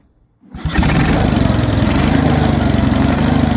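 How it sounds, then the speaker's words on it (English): An Onan US military generator engine cranks briefly, catches and fires up, then settles into a loud, steady running drone with a fast, even chug. "let's see if it starts again"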